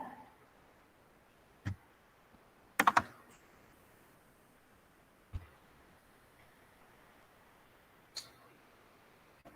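Isolated computer keyboard key presses while working in 3D modeling software: a few sharp clicks spaced seconds apart, including a quick double-tap cluster, over a quiet room background.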